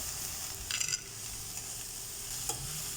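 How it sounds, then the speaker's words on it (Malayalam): Finely chopped spinach is stirred into a curry in a pan, with a quiet continuous sizzle and a few light scraping stirs and clinks. "പാലക്കല നല്ല കഴുകി ചെറുതായി അരിഞ്ഞത് അതും കൂടെ ഇതിലേക്ക് മിക്സ് ചെയ്യുക"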